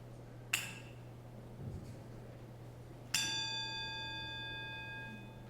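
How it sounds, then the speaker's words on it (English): A single bell struck twice in a quiet service room, each strike a clear ringing tone, the second left to sustain and fade slowly into silence over a low steady hum. "as we follow the sound of the bell into silence"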